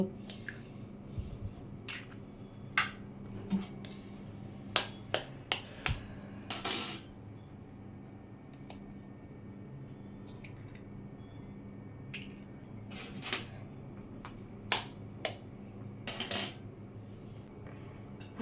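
Eggs are cracked one after another into a bowl with sharp taps and clicks of shell against the rim, then soft wet drips and squelches. The sounds are close and quiet, come in scattered clusters and have no voices over them.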